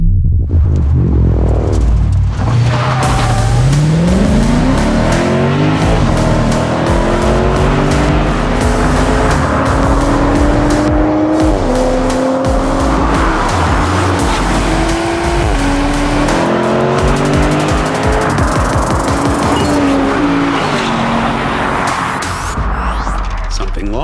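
A big V8 in a small sedan roars through rising gear changes at full throttle, loud and close, with tires squealing as it accelerates hard down a drag strip.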